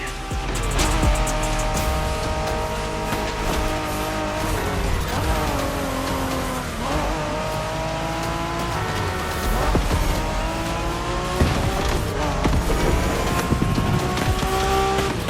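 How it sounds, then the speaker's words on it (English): Cars street racing in The Crew Motorfest video game, with engines revving up through the gears, rising and falling whines and tire squeals that stay loud and continuous throughout. "We're going for some proper Japanese street racing."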